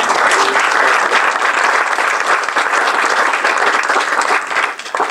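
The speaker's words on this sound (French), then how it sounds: "je crois effectivement qu'on doit applaudir à cette table ronde qui était magnifique" Sustained applause from a conference audience after a round-table discussion at a civic innovation meeting in Paris, dense and steady throughout, tapering slightly at the very end.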